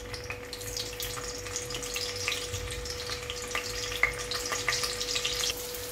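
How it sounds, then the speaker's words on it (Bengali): Paneer cubes fry in hot oil with a steady, close sizzle and scattered small pops and crackles. A faint constant hum runs underneath. "সবার প্রথমে আমি পনিরটাকে ভেজে নিচ্ছি।"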